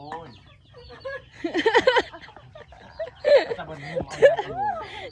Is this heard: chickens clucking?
yes